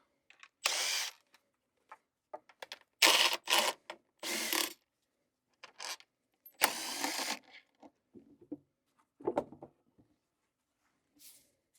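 Tools clatter and scrape in short, separated bursts with silence between them as the intake manifold is pulled off a police auction boat's engine, close and moderately loud.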